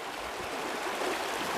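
Water of the Meander River flowing steadily past at close range, a continuous broadband rush with no breaks and no voices.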